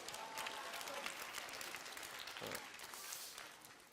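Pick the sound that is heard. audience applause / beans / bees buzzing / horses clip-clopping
audience applause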